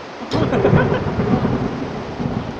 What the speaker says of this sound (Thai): เสียงฟ้าได้ยินบ่บึมบึมบึมบึมเลย